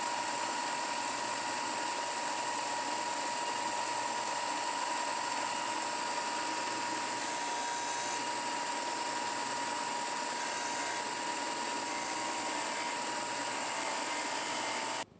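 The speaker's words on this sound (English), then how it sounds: "I'm going to sand the draft onto the outside radiuses and flat edges using the disc sander today." A disc sander grinding draft onto the outer radii and flat edges of cast parts for a flask foundry vibrator, a continuous high whine and rasp with slight swells as pressure changes, ending abruptly.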